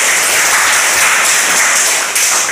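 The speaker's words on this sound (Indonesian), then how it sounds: "Ya, kita berikan aplaus dulu." Loud, dense applause from an audience at a village deliberation meeting in Helumo, Anggrek district, a brief steady burst of many hands clapping.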